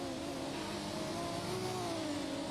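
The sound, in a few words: racing car engine revving in a video game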